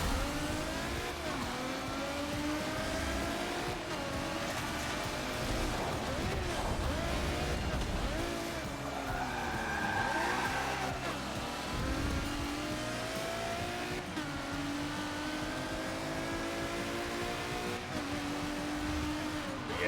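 Race car engine revving through rising and falling gear sweeps in Forza Motorsport 7, a continuous loud drone with a brief higher squeal partway through, with talk underneath.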